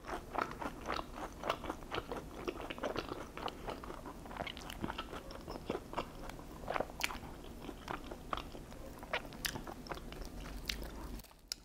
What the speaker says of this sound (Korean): 이 바삭바삭한 치즈볼 소리 보세요.